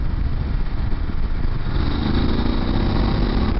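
A BMW F850GS motorcycle engine on a test ride, with a steady, loud mid-range drone whose pitch climbs slightly toward the end, and no talking.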